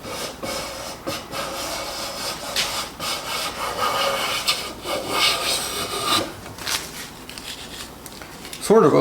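Hand plane shaving a freshly jointed wooden board, a series of rasping, slightly uneven strokes with brief pauses between passes, loud and close.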